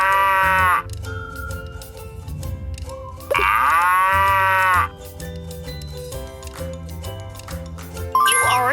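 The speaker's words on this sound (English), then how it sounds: "Cow!" A cow's moo used as a guess-the-animal sound for kids, sounding in two loud, drawn-out harmonic calls separated by music with chimes and tinkling sounds.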